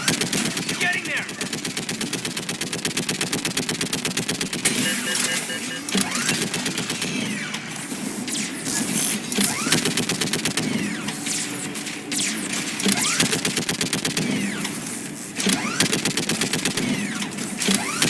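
Rapid automatic gunfire in the video game Mass Effect 3, fired in long, dense bursts with short gaps. The shots are loud and close, with faint voices beneath them.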